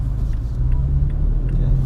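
A 2017 Toyota Tacoma TRD Off Road's 3.5 liter engine drones steadily from inside the cabin, a low continuous rumble with slight rises as it accelerates.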